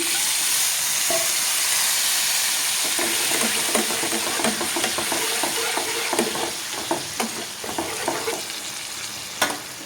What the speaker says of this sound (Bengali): এখানে আমি একটু জল দিব মশলাটা কষার জন্য